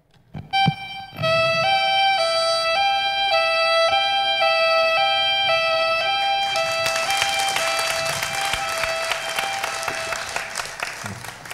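Violin and flute together mimic an ambulance siren on a stage comedy show, sustaining steady bright tones that alternate between two pitches; loud audience applause swells in over the second half.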